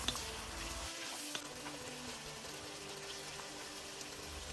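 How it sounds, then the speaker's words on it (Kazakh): Carrots frying with meat in oil in a pan, a steady soft sizzle that carries on close by with no talk. "Енді сәбізімізді 10-15 минуттай жұмсақ болғанша қуырамыз."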